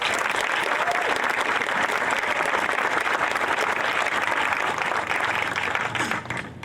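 A crowd at an outdoor groundbreaking and naming ceremony for a new venue breaks into steady, dense applause that holds evenly for several seconds before fading out.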